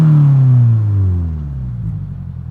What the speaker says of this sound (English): This is the Aeroflow Dynamics Gold Titanium single exit exhaust